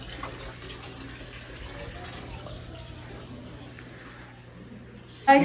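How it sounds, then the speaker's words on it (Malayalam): Water splashes and runs steadily as rice is washed in a home kitchen, a continuous close wash of liquid that ends in a sudden louder slosh. "അരി കഴുകുന്നുണ്ട്"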